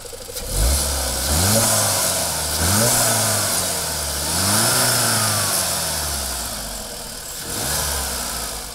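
A Skoda Octavia RS engine, the same as in the Golf GTI, revs repeatedly, climbing in pitch then dropping back several times in a steady rhythm, loud and close with road or wind noise.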